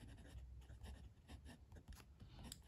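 A Jinhao 82 fountain pen with a fine steel nib scratches faintly across paper in short, uneven strokes, very quiet and close, with no voices.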